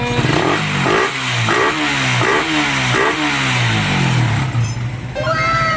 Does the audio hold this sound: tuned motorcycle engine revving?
yes